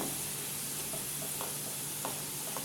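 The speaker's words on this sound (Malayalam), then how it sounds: "നമ്മുടെ പൊട്ടറ്റോ ചില്ലിക്കുള്ള പൊട്ടറ്റോ ഏതാണ്ട് ഫ്രൈ ആവാറായിട്ടുണ്ട്" Potatoes frying in hot oil for potato chilli, a steady close sizzle with faint stirring taps, no voices.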